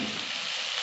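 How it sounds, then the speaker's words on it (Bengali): Potatoes fry in oil in a covered pan, a steady close hiss and sizzle with no talk. "ঢাকা চাপা দিয়ে আলুগুলো একটু ভেজে নিই"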